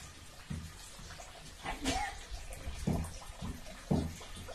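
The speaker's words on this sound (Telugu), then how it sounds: "రాత్రి నుంచి వస్తూనే ఉంది ముసురు." Steady drizzle of rain that has been falling since the night, a continuous wash of hiss outdoors with a few faint thumps and murmurs over it.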